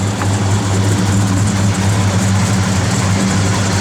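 The big block engine of a 1970 Chevrolet Chevelle SS idles loud and close, a steady, deep rumbling burble that holds an even rhythm throughout.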